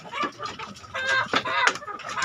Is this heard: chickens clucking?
yes